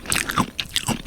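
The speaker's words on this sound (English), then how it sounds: "Boy, I hear crunching." Close, crisp crunching and chewing bites in quick succession, several distinct crunches within about a second, loud and dry with no voices.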